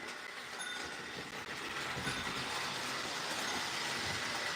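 An O gauge model train hauls a string of about twelve boxcars around a layout, making a faint, continuous rumble with light rhythmic clicking of wheels on track, heard alone at a modest distance.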